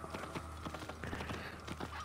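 Horse hooves clip-clopping at a steady trot in the video game Assassin's Creed Origins, a quick rhythmic patter of soft thuds, fairly faint, with no talking.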